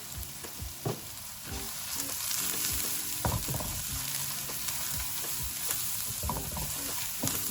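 Asafoetida and spices fry in a hot pan for a kachori filling, a steady sizzle under intermittent scraping and clanking strokes of a spoon stirring against the pan, close and moderately loud.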